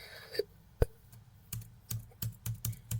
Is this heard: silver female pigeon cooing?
no